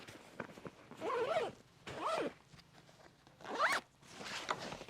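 A backpack being zipped closed, with several quick rasping zipper pulls separated by brief pauses, close and fairly quiet, with no speech.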